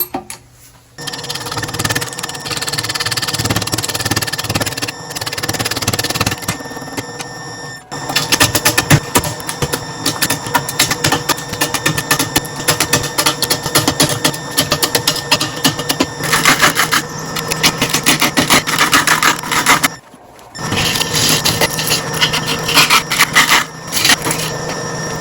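Birch burl spinning on a lathe as its bottom is flattened, a continuous loud rasping cut with chattering texture, broken by two brief pauses before cutting resumes.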